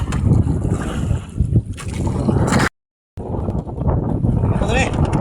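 Strong wind buffets a small fishing boat at sea in the northeast monsoon, a loud, steady roar of wind noise and water, broken by a brief silent gap midway, with faint voices underneath.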